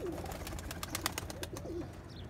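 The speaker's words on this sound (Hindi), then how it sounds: "जैसे ये कबूतर है" A pigeon gives soft, low, rolling coos close by, mixed with a run of sharp clicking or tapping sounds.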